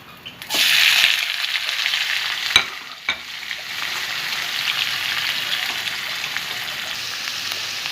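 Spices frying in oil for a bottle gourd curry, a sharp burst of close sizzle that settles into a steady hiss, broken by two distinct utensil taps.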